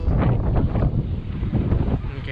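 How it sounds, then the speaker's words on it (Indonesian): Strong gusts buffet the microphone outdoors in Rome near the Colosseum, producing a loud, continuous low rumble that swells and dips throughout. "Anginnya kencang sekali nih, anginnya kesan dari sana"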